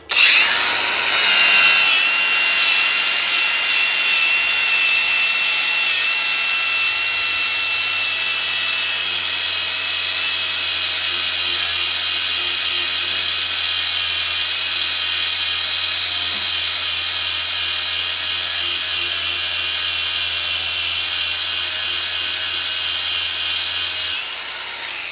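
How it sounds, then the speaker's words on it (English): An angle grinder fitted with a flap disc grinds metal continuously for about 24 seconds, a loud, steady high-pitched whine with rough abrasive hiss that starts abruptly and holds nearly level before cutting off at the end. "That's just with a flap disc."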